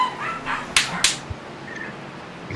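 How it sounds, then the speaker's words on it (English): Dogs bark and yip near the microphone in a racing commentary booth, a few quick sharp barks over a steady background hum. "somebody let the dogs in the booth once again"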